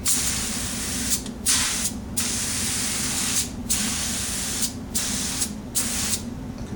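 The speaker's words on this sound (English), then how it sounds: "so as soon as I get this shook up, we'll come back, spray this thing out" Several bursts of aerosol spray hissing close by, each lasting about a second or more, with short pauses between them and steady faint noise underneath.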